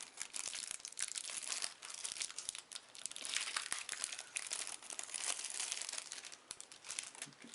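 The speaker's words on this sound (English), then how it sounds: "Get that plastic out of the way." Plastic wrap on a World of Warcraft raid deck's cards crinkling and tearing as it is pulled off, a close, continuous crackle with dense sharp crunches throughout.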